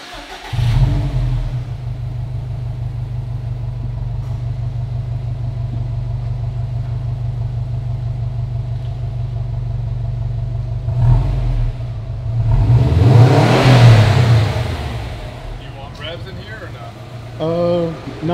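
A car engine idles steadily, then revs up loudly in a surging burst as the car pulls away, with voices talking over it.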